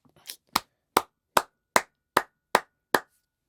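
Eight sharp claps from a single person, evenly spaced about 0.4 seconds apart, loud and close in a quiet room.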